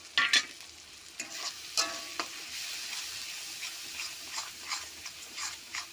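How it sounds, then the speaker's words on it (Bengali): Turmeric, cumin, coriander and chilli powders sizzle softly in a pan while a spoon scrapes and taps at irregular intervals, close by and moderately quiet. "মশলাটা একসঙ্গে ভেজে নেবো"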